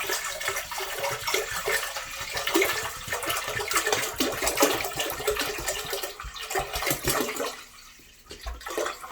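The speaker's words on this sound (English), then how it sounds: "the rest of our water is going into the big pot" Water pours steadily and fairly loudly into a big pot for apricot wine, a continuous rushing splash with a brief dip near the end.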